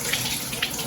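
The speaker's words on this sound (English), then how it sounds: "So I need to let the faucet run until it gets warm." A kitchen faucet runs with a steady, close rush of water, a continuous broadband hiss with slight splashing surges and no talking.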